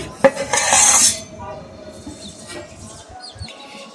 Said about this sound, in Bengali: তো 5 মিনিট পর চাপাটা সরিয়ে নিচ্ছি